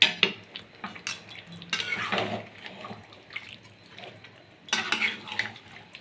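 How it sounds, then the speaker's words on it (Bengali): Spoon scraping and clinking against a pot while chicken curry is stirred and fried, with intermittent strokes and soft sizzling in between, close and moderately quiet, no talking. "এবার ভালো করে নাড়বো, নেড়ে ভালো করে আবার কষাবো।"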